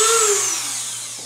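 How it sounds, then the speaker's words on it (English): A quarter-inch Dremel rasp cuts into a wood chess queen on a lathe, giving a loud, steady high-pitched whine that slowly falls in pitch over about a second, with no voices. "I have this 1/4 inch Dremel rasp that I'm going to try to cut the rest of it with"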